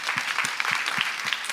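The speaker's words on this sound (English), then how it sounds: "Give that lady a round of applause." Audience at a live comedy podcast show applauds, a steady patter of many hands clapping at moderate volume for a brief stretch.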